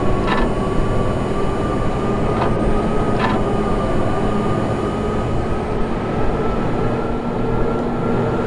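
A subway train in the video game Max Payne rumbles steadily at close range, with a sustained low drone and a high electrical whine, broken by a few brief clanks near the start.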